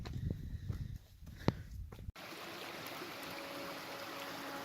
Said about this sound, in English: This trail's just coming down right next to this little creek. Little tiny waterfalls almost the whole way down.